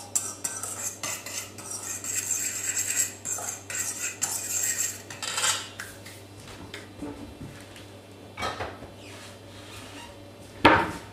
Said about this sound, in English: So basically mix up those dry ingredients.